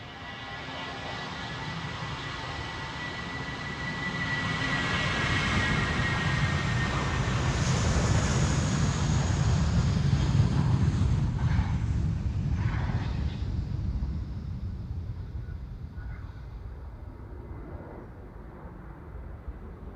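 A British Airways jet departs Amsterdam Schiphol on a windy day, its engine roar swelling broad and loud as it passes, then slowly fading into the distance over gusty wind.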